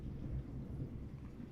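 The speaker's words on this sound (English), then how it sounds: "Okay, Thunder. Gosh." Deep, low thunder rolls continuously in Breath of the Wild, a muffled and fairly quiet rumble with no voices over it.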